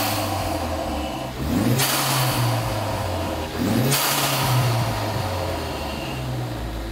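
A 2015-2017 Ford Mustang EcoBoost fitted with a Turbosmart blow-off valve starts up, then revs twice in quick swells that rise and fall, loud and close, settling back to a rumbling idle between.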